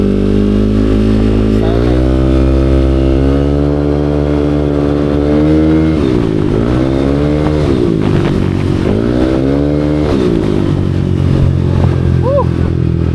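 A motorcycle engine revs and accelerates up close, its pitch climbing and dropping through several throttle bursts over a steady loud idle, with a rider briefly speaking.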